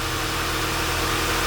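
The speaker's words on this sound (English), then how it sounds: "Once you started the engine," A 2009 Volkswagen Eos engine idling just after starting, with an intake manifold problem and a check engine light. It gives a steady low hum with a faint regular pulsing and an even level throughout, heard alone without voices.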